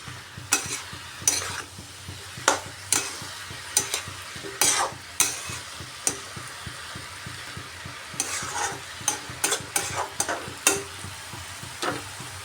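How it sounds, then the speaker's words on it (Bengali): A spoon scrapes and stirs dried fish with mixed vegetables in a pan, giving repeated clinks at an irregular rhythm over a soft steady sizzle, fairly quiet and close. "নাড়িয়ে নিচ্ছি।"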